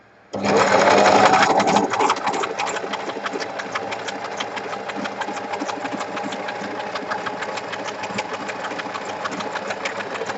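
A sewing machine zigzag-stitches fabric, starting abruptly with a loud burst and then running continuously in a fast, even rattling chatter, close up with no talking.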